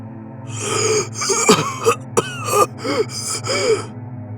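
A series of harsh, strained coughs with gasping breaths in between, bringing up blood-flecked spit, close and fairly loud, with no talking.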